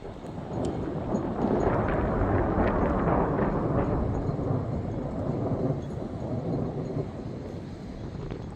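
A long, heavy roll of thunder from a storm over the Belledonne massif rumbles continuously for several seconds, loud and broad with wind buffeting the microphone, slowly fading toward the end.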